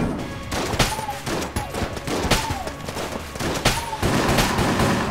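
Rapid, loud gunfire from a gun in Enter the Gungeon, a steady stream of overlapping shots with recurring sweeping whines. Nobody speaks over it.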